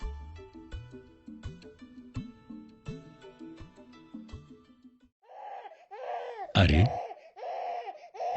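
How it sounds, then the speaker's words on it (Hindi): A baby cries in loud, wavering wails, rising to a sharp peak, after a stretch of plucked melodic music. A voice gives a brief exclamation. "ये किस बच्चे के रोने की आवाज सुनाई दे रही है?"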